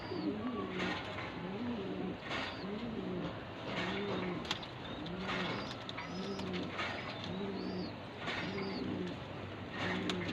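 Sialkoti and Firozpuri pigeons cooing repeatedly in a steady, rhythmic pattern, close by, with soft background noise and no talking.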